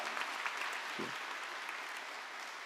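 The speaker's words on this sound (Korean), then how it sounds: "하나님께 영광의 박수를 올려드리겠습니다." A church congregation gives a dense, steady round of applause during a dawn revival service, continuous clapping filling the space at a moderate, even level.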